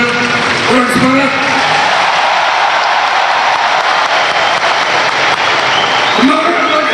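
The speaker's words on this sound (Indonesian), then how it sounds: "Tepuk tangannya, orang semangat." A crowd at a Gerindra party anniversary rally in Indonesia bursts into loud, dense applause, a continuous roar of clapping close and even, with a few shouted voices at the start and end.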